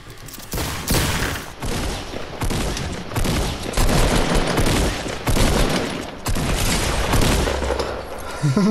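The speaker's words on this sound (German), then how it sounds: "der letzte wollte dich mit dem Sniper killen" Rapid gunfire in a Fortnite duo match, a loud burst of shots and booming impacts that crowd the whole stretch with a dense, continuous clatter.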